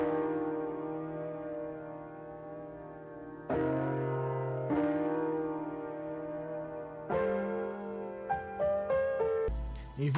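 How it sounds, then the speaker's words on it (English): A Golden Age Grand Piano virtual instrument plays a simple MIDI line with no effects: sustained chords struck at intervals, ringing out, then a quicker run of notes toward the end, clean and close. "And next up is the Golden Age Grand Piano."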